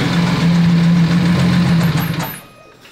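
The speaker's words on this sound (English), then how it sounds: "I can hear that there's a ticking" A Lamborghini Aventador engine with a suspected cylinder head or bottom-end fault runs loud and close with a rough, knocking idle, then shuts off and goes quiet just before the end.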